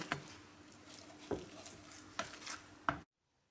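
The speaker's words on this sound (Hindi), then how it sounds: "लेकिन हमने चम्मच चलाते रहना है ताकि गिल्टियाँ ना बने" A spoon stirring besan halwa of gram flour and sugar in a pan, a few distinct scrapes and knocks against the pan over a soft sizzle, close up, then silence.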